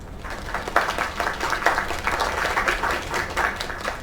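A crowd applauds in the video game LAKE, a dense burst of many hands clapping steadily at moderate loudness, with no voices standing out.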